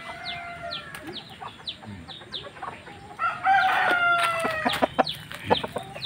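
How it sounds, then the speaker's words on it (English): A Bangkok chicken rooster crows one loud, drawn-out call at close range on a village farm near rice fields in west Java, Indonesia, after a run of clucks, with other bird chirps behind it. "This is Bangkok chicken"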